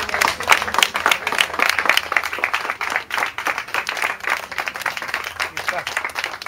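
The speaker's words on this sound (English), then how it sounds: "Applaudissons." Clapping from an audience at an art expo and sale, a dense run of many hands spread through the room, steady and fairly loud with a few brighter individual claps standing out.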